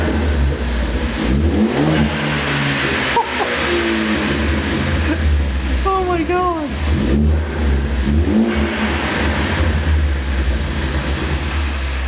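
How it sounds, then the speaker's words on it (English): Mazdaspeed3 with a bypass valve being revved, its engine rising in a few sweeping pulls over a steady loud low rumble, with a brief spoken exclamation partway through. "Guess I'll try and rev mine."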